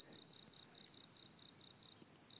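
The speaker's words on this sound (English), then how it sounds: "Just like crickets over and over again." Crickets chirping in a steady repeating pattern, about ten short bursts evenly spaced, faint and alone with no voices.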